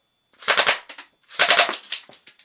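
A Tokyo Marui MP7A1 airsoft gun fires two close, sharp full-auto bursts, each a rapid clatter of about a dozen shots trailing into a few single pops, with no talk.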